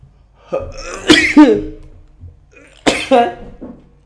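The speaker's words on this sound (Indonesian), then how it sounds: "Sebentar, saya ingin bersin." A person sneezes twice, close to the microphone, in an indoor setting: two sharp bursts roughly two seconds apart, each followed by a short trailing breath.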